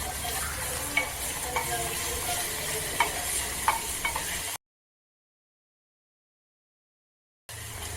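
Onion with ginger-garlic paste roasting in a pan, sizzling steadily up close with scraping spoon strokes and small clicks; the sound cuts out abruptly midway, leaving a few seconds of silence before the sizzle returns.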